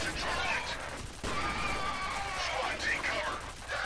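Rapid turret gunfire in the shooter game F.E.A.R., a steady loud burst of shots running nearly the whole time with crashes mixed in.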